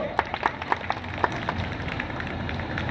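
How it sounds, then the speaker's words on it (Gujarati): Scattered hand claps from a quiz-competition audience, a handful of separate claps in quick, uneven succession, fairly faint against a hushed room murmur. "એકવાર ફરીથી તાળી પાડી દો."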